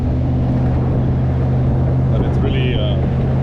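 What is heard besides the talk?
Austin Healey 3000 V8 car engine while driving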